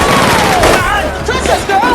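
Rapid gunfire in the film Rush Hour 3 crackles in a loud, dense burst while a voice cries out over it and tones whine through the mix.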